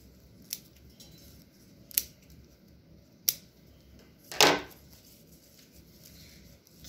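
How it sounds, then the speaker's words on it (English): Trimming loose roots off a woven basket of natural materials: four separate close snips, sharp and brief, spaced about a second or more apart, the last longer and rougher, set against a quiet room. "I'm going to trim off extra material. And I'll go around and I trim off some of these roots"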